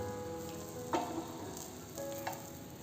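An egg and cheese sandwich folded and toasting crisp in a hot pan, with a steady low sizzle and a couple of faint scrapes or taps, no voices.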